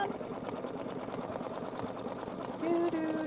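An embroidery machine stitching a satin stitch with a fast, steady mechanical whir that holds throughout, and a short tonal note rises near the end.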